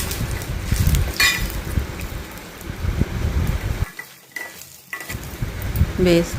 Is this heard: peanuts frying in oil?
yes